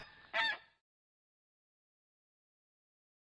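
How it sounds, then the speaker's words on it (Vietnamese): A single loud goose honk rings out near the start, followed by long silence. "Đây chẳng phải là tiếng kêu của ngỗng trời nhà ta sao"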